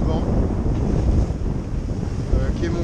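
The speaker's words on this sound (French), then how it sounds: "On est sorti de la baie de Port-la-Selva et on a pris un coup de vent" A strong wind gust buffets a sailboat at sea just outside the bay of Port-la-Selva, gusting to 41 knots apparent. Loud, steady roaring wind noise blows across the microphone with a faint wash of waves beneath.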